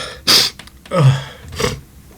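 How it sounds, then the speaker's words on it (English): A person sneezing from a perfume allergy, with a sharp, loud burst near the start and two softer breathy gasps or sneezes after it, close and alone with no talk. "It's nice to be told I have a good sneeze, I guess."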